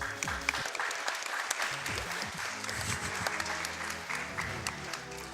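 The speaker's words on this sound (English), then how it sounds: "I think that one deserves a round of applause" Audience applause at a speedrun marathon event, a live crowd clapping for a Pokemon Black and White 2 run, heard as steady clapping that blends with ongoing game music and sound effects for several seconds.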